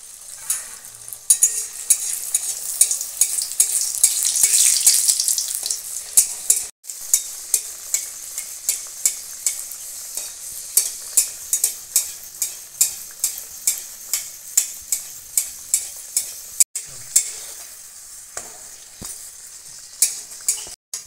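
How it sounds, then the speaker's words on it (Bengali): Spinach puris frying one after another in hot oil in a wok, a steady close sizzle broken by repeated sharp clinks and scrapes of a metal utensil against the pan at a quick, fairly regular pace. "আমি একে একে পুরিগুলো দিয়ে ভেজে নেব"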